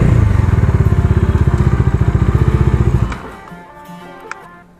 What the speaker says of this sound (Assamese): ইয়াতে হ'ল মিটাৰখন হ'ব আৰু বাইকখন ৰাখোঁ ইয়াতে